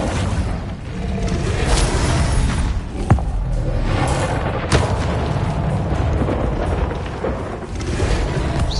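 In Hogwarts Legacy, the Incendio fire spell erupts as a loud, sustained roaring burst with rumbling booms and a couple of sharp cracks, dense and continuous across the whole stretch.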